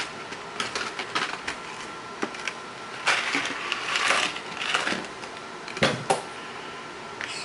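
Small screws being driven back into the portal housing of a Traxxas TRX-4 Sport RC truck, light metallic ticks and scraping clicks scattered over a faint background hum, with a busier stretch of handling noise in the middle.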